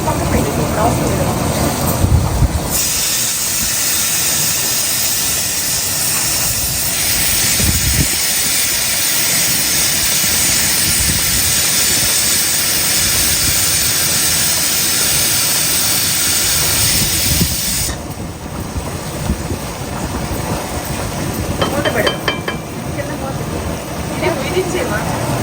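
A pressure cooker on a home stove gives off a loud, sustained hiss of escaping steam that runs for long stretches, cuts off briefly, then resumes, with someone talking over it in places.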